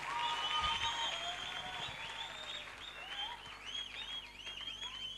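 A church congregation claps hands for Jesus in sustained, even applause, with high gliding whistles or ululating cries rising over it throughout.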